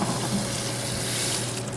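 Tap water runs steadily and close by, rinsing a syrup pump under the faucet with a continuous splashing rush.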